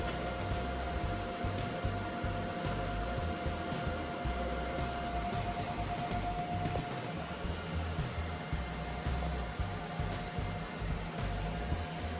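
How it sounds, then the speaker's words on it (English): A steel winch bumper for a Cherokee XJ is welded all the way around: a loud, continuous buzzing hiss with a steady crackle runs throughout, uninterrupted for about twelve seconds. "I'm gonna weld all the way around here"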